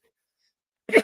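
A single sharp sneeze bursts out near the end after near silence, loud and close.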